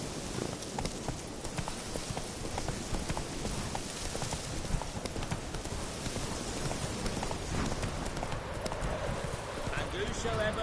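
Roach, the horse in The Witcher 3: Wild Hunt, galloping with a rapid, continuous drumming of hooves, loud and close, beneath in-game voices speaking.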